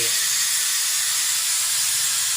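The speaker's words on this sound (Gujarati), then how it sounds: "વઘાર ચાલુ છે શેનો વઘાર ચાલુ ડાળનો બટાકાનો વઘાર ચાલુ" Potato tempering for masala dosa filling sizzles loudly and continuously in the pan, a dense steamy hiss with no pauses, close up and steady throughout.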